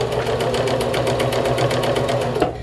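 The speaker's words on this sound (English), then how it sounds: "I'm going to take these and sew these 2 pieces together" A sewing machine runs steadily, stitching two fabric pieces together at a half-inch seam, its rapid even needle chatter close and continuous before slowing at the end.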